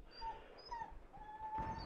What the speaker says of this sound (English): Sorry about the dog whining in the background.